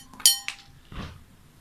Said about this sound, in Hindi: मैंने दोबारा से ये इसको इसमें डाल लिए मोती।